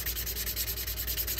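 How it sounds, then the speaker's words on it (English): Sandpaper is rubbed by hand along the edge of a leather knife slip, moving through grits. Quick, even back-and-forth strokes repeat steadily at close range, with no voices. "You don't have to do very much sanding with each grit."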